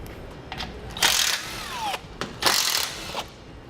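Bolts are backed out with a 10mm socket while a tow base plate is fitted to a 2018 Jeep Cherokee, a few short bursts of a power driver with ratcheting clicks between them, close by and with no one speaking.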